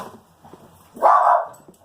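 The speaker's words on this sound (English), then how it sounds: "No barking, Rocco." A dog named Rocco gives a single loud bark, close by, after a stretch of quiet room noise.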